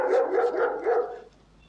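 A dog barks in a quick run of three or four sharp, close barks, fairly loud and alone before fading into quiet.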